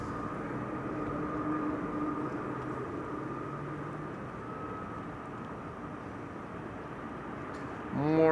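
A Belgian-registered airplane departs Amsterdam Schiphol Airport with a steady, fairly distant jet roar and a faint engine whine. A louder burst of noise swells at the very end.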